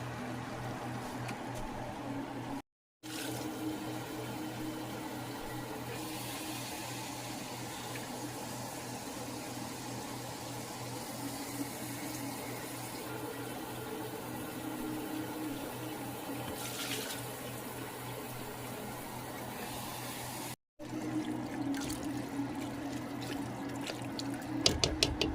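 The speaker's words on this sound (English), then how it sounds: "I'm going to have to add water." Water runs steadily from a tap into a cooking pot of collard greens, a continuous close splashing rush with two brief cuts and no talk.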